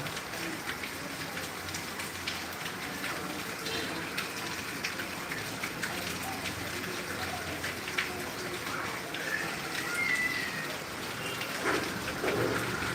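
Heavy rain pours down in Tangail, Bangladesh, a steady, dense hiss of water striking surfaces that runs unbroken for the whole stretch at an even, moderate level.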